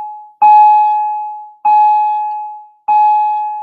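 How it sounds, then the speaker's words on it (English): A high school's electronic bell chimes three times in a steady rhythm, each tone a clear sustained ding that rings out and fades before the next, loud and alone with no talking. "That was our bell for 2 o'clock."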